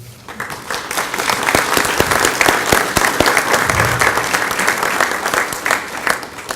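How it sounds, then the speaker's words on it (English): An audience at an alumni recognition brunch claps steadily and loudly, sustained applause from a crowd lasting several seconds. "I want to give you all a round of applause, every one of you."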